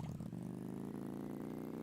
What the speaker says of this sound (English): Nobody said that the, moped volume is, painfully loud.